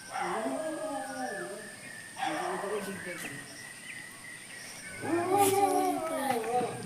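A dog whimpers and howls in three drawn-out, wavering whiny bursts, near and fairly loud, separated by short quiet gaps.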